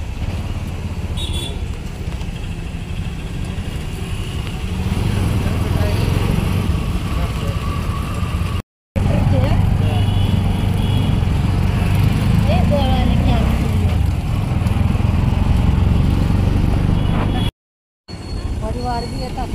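A vehicle creeps slowly through traffic, its engine giving a low, steady drone throughout while people talk over it. The sound drops out briefly twice.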